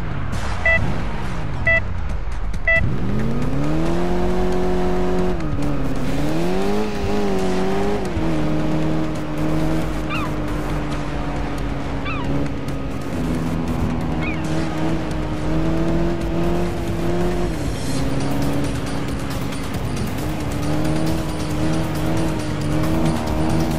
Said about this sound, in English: Simir, I want you to drive the car steadily next to the truck so that Ben can jump across